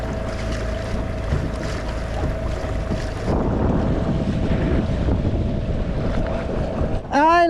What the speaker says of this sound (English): Look at that outboard on my kayak, man.